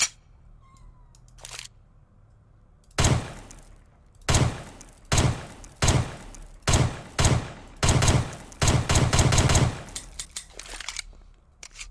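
Rapid bursts of gunfire from an advanced FiveM-style gun system in a Roblox video game, loud and close, firing in short volleys with brief gaps, then a dense run of shots and a quieter reload-like clatter near the start.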